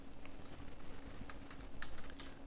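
Typing code on a computer keyboard, a quiet run of light, irregular key clicks in close succession for a couple of seconds, nothing else heard.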